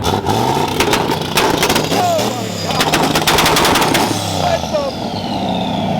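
Loud, rapid-fire two-step exhaust pops crackle in quick bursts like gunfire over the rumbling engine of a lifted, turbocharged 2014 Tahoe with a 5.3 V8, with voices talking through it.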